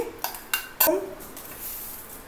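Sugar goes into a pot of dum chicken, heard as a few quiet metallic clinks of a spoon against the pot followed by soft shuffling, fairly close and without talk.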